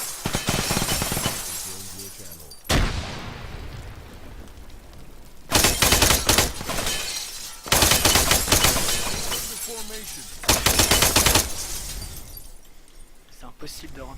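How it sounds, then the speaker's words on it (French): A flash grenade and gunfire in the war game Arma 3, with loud bursts of shots and harsh crashing blasts alternating with quieter stretches, while someone talks at times. "C'est une grenade flash, attention."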